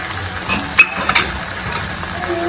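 A spoon stirs onion and tomato gravy frying in a pan, giving a soft steady sizzle broken by a few light clinks of the utensil against the metal.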